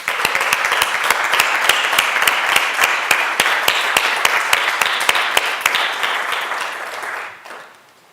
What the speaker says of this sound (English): I would like to ask for a resound applause for all this team.